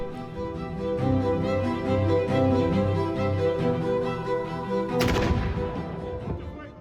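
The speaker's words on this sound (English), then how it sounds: "they reenact the firing of the cannon" A booming cannon shot goes off partway through, sharp and loud over a steady droning background, at a historical reenactment by costumed performers at the Castillo in St. Augustine.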